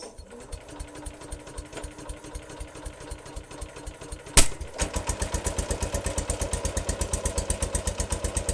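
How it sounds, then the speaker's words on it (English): A 1971 Cub Cadet 107 garden tractor engine cold-starting after sitting two weeks: cranking and rough chugging, then one loud sharp backfire bang followed by a steady, close, pulsing idle. "well, that was quite a backfire"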